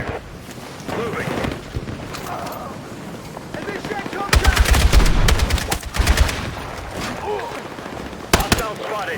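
Gunfire in the video game Battlefield 6 breaks out as rapid bursts and booming shots among battle noise, while voices call out under and between the volleys.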